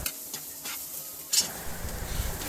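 Bitter gourd and onion fry together in a pan with a steady close sizzle and a few scraping stirs, one louder scrape near the middle.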